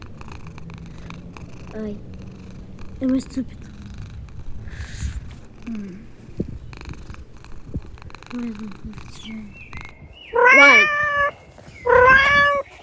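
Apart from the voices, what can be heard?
cat purring and meowing in video game Mouse Trap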